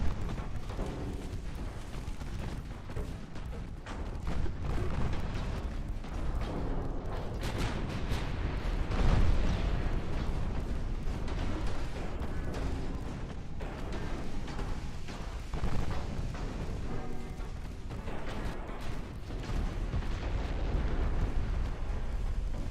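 Heavy naval gunfire and shell impacts on a light cruiser in Ultimate Admiral Dreadnoughts, a dense, continuous barrage of deep booms and blasts with a louder hit near the middle, no talking.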